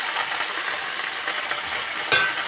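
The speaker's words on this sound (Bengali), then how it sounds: "লাউ পাতাগুলো একটু জাস্ট একটুখানি ভেজে নেবো" Bottle gourd leaves frying in a pan, giving a dense, even close sizzle with a brief scrape near the end.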